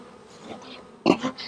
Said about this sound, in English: Lots of bees. They don't seem too happy with me right now.